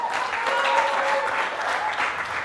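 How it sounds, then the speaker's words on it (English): Studio audience applause for a schoolgirl quiz contestant walking on in a televised school challenge, a lively, continuous round of clapping from a crowd, evenly loud throughout the short stretch. "let's give a huge round of applause to Ronald."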